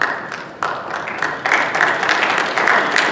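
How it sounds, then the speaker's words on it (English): A courtroom or public meeting audience claps in a dense, loud burst of applause that builds in waves, with no voices above it. "Please hold your applause"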